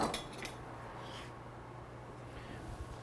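Knife cutting the corners of a brie and berry pastry, a few quick scraping taps against a pan or board at the start, then a steady low kitchen hum with faint clinks.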